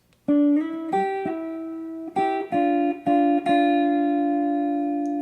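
A short clean electric guitar phrase from Sultans of Swing, several plucked notes, clear, with the last note ringing out and slowly fading.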